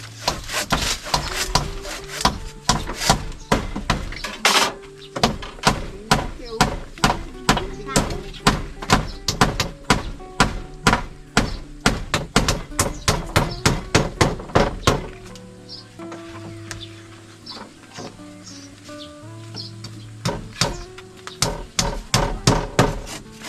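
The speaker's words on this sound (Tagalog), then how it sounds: "pako martilyo." A hammer drives nails into wood during house building, with sharp, loud blows striking in steady, quick runs, pausing briefly between bursts and continuing throughout, while people talk in the background.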